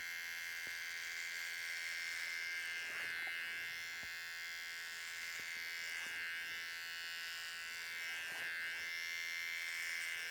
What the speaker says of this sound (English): It's all about using that angle of that trimmer to get your desired results.